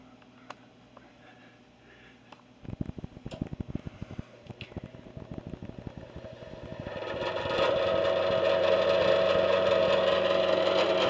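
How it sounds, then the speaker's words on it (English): New furnace motor starting up with irregular clicking and ticking that builds into a steady, louder mechanical hum over the last few seconds. "That new motor. It's brand new right there. You hear that?"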